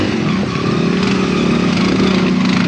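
Motorcycle fitted with an Enduro tire riding through snow, a loud, continuous close-up engine drone with a steady throb and no talking.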